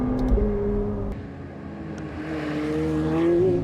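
A McLaren 750S Spider sports car drives on an open road, its engine droning steadily with a slowly rising pitch, close and continuous under rushing road and wind noise.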